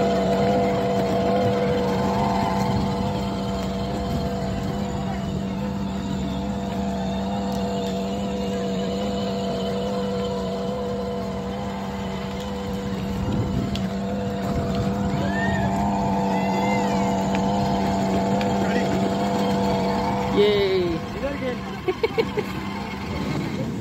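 A small vehicle driven by a child at a farm resort gives a steady engine drone with a low persistent hum, running continuously under people talking and a few brief sharp sounds near the end.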